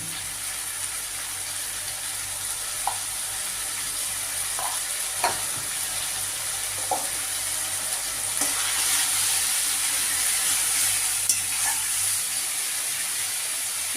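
Chicken pieces frying in a spice paste with green chilli and Kashmiri chilli in a pan over medium heat, giving a continuous close sizzle and hiss with occasional light stirring knocks.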